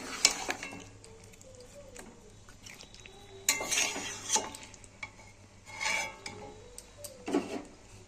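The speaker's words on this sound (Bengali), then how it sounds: "এবার আমি এই দইটা দিয়ে দেবো, দইটা দিয়ে আমি নাড়বো" Chicken with yogurt is stirred in a pot, producing intermittent scraping and rasping spoon strokes against the metal over a faint low simmer, growing louder in bursts toward the end.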